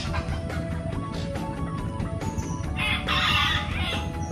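Chickens and birds around a home, with a rooster crowing and hens clucking over steady bird chatter, moderately loud and without talk.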